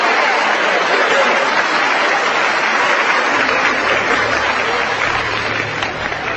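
A large crowd applauds, dense steady clapping that fills the whole stretch, loud and close, with no voices standing out.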